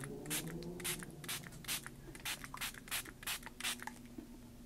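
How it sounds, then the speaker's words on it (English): Tap water spritzed from a spray bottle onto a stencil for art journaling with distress ink: about a dozen short, hissing bursts in a steady rhythm, close and fairly quiet over a low background hum. "this is just water, simple water from the tap. And I'm going to spray it in my stencil."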